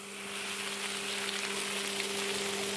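Waffle batter sizzles steadily on a hot waffle iron at a traditional waffle maker's shop, a loud continuous frying hiss with a faint steady electrical hum beneath and no voices.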